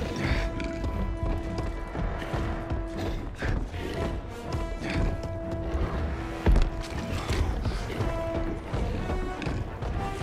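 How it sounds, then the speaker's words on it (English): Galloping hooves and clattering footfalls from horses stampeding through a town in Middle-earth: Shadow of War, a dense, loud, continuous rumble layered with mechanical clanks, crashes and faint whinnies. "Stampeding through town."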